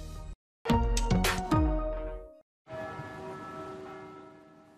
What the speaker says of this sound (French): Un hommage silencieux au son des cloches des églises.